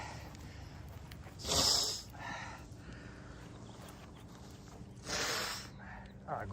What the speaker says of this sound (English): I gotta blow my nose out.